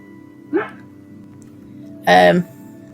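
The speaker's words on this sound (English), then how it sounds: "there's just one dog who likes the sound of his own voice" A dog barks twice, a short bark followed by a louder, longer one about a second and a half later, over a low steady hum.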